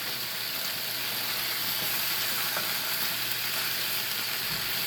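Onions and potatoes frying together in a pan, a steady broadband sizzle with faint crackles holding at an even level throughout, with no talking.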